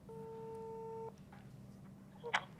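A quiet, steady electronic calling tone plays from a Kospet Optimus 2 smartwatch for about a second, followed by faint room noise and a brief soft click.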